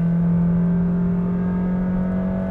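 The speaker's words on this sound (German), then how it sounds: "gebe Gas und dann schauen wir mal, wie schnell wir auf 100 sind" Honda HR-V e:HEV hybrid car accelerating toward 100 km/h, a steady droning engine and road hum heard from inside the cabin with no talk.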